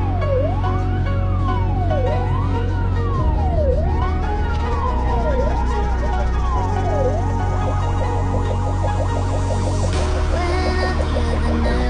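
An ambulance siren responding to a call for an elderly patient in Muizenberg, loud and close, wailing in long rising and falling sweeps before switching to a faster yelp, over a constant low engine drone.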